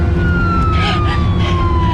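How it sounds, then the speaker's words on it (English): A police car siren wails steadily on a road, loud and close, its rising and falling tone sitting over a heavy low engine and road rumble. "There's a police car."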